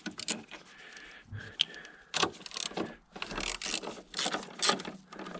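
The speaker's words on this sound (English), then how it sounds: "what we need to do at the top is simply undo the 3 nuts. These 2 are easily accessed with a ratchet" A hand ratchet clicks in quick bursts as it undoes the top strut nuts on a BMW 1 Series during shock absorber replacement, close and fairly quiet with short pauses between the runs of clicks.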